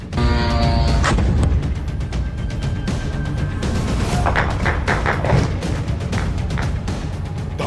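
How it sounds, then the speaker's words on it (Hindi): Explosions echo through the night in Manama, a series of heavy thuds and booms landing irregularly over a dense, rumbling background, some sharp and close, others dull. "धमाकों से गूंज उठी मनामा की रात।"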